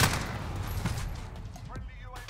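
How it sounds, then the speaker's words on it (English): Faint gunfire from Call of Duty: Modern Warfare in Search and Destroy mode, a few quick distant shots in the first half and again near the end, low in level under game ambience with no voices. "The moment I step out, he shoots me."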